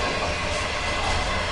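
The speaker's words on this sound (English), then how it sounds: "We're on the train in North Korea here." Passenger train running through remote countryside between Pyongyang and Sinuiju, North Korea, a coal-boiler-equipped carriage, giving a steady, loud broadband rumble and roar of wheels on rail, continuous without break and no voices.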